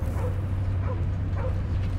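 A space dog in the Guardians of the Galaxy video game whimpers and yips in short, close, plaintive bursts over a steady low background hum.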